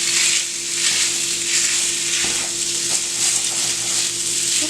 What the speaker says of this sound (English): I'll bring you back when this is finished frying